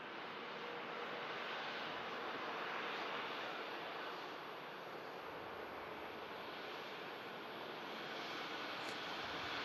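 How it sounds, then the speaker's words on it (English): A TAP Air Portugal Airbus A320neo arriving from Lisbon lands, its broad, even jet roar filling the air at moderate distance for several seconds, without talk. "Tap Air Portugal, Airbus A320neo coming in from Lisbon"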